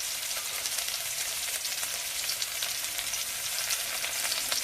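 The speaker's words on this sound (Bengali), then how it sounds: "লঙ্কা, কাঁচা লঙ্কা পেরাই, দিয়ে মশলাটা কষে নেব।" Onion, garlic and ginger paste frying in a pan with nigella seeds, a steady dense sizzle that carries on loud and close with no talking.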